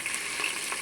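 Green chillies sizzle in hot oil in a pan while bagara rice is being cooked, a steady, close frying hiss with no talk over it.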